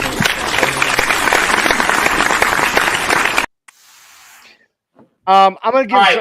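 Dense applause fills the first few seconds, then cuts off abruptly to near silence, followed by a short burst of speech.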